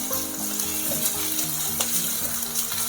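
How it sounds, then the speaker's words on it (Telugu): Onions fry in oil with ginger-garlic paste added for a green chicken dish, giving a steady, close sizzle with faint stirring scrapes throughout and no talking. "ఆనియన్స్ ఫ్రై అవుతుంది, ఇందులోనే అల్లం వెల్లుల్లి పేస్ట్ వేసుకుందాము"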